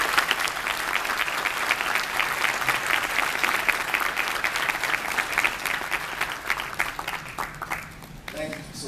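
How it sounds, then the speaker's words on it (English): A large audience applauds steadily, a dense wash of clapping that holds strong for several seconds before thinning out near the end. "Again, another round of applause for Sophia."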